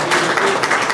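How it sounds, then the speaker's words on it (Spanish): A short burst of audience clapping at an agricultural seminar on Botrytis management, as an attendee is asked to stand. The clapping is brief and fairly close, with a faint voice tone mixed in. "Un aplauso."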